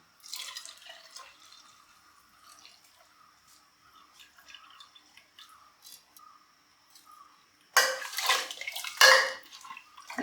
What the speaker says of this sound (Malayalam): നമ്മളിതിലേക്ക് എടുത്ത് വെച്ചിരുന്ന പാലുണ്ടല്ലോ, നാളികേരപ്പാൽ, അത് ഒഴിച്ചു കൊടുക്കുകയാണ്.